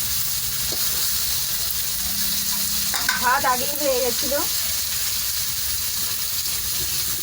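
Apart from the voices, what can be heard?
katla fish frying in a pan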